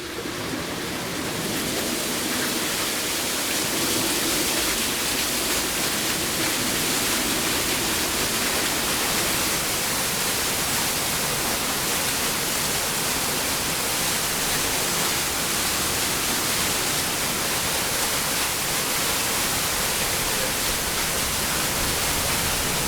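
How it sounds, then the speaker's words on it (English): Water released from a mill pond through sluice gates pours onto a water wheel at a snuff mill, a loud, dense, unbroken roar of rushing and splashing water that holds steady throughout. "they open up some sluice gates and the volume of water drops down onto a water wheel"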